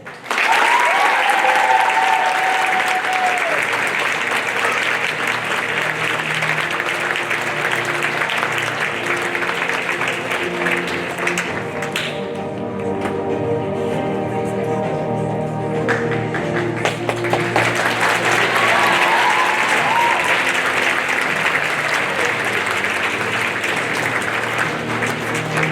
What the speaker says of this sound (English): Let's show a big round of applause for all of our grade